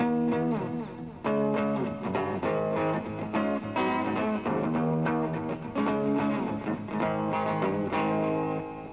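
A distorted electric guitar strums punchy rock chords in a driving rhythm, with short gaps between bursts, loud and alone.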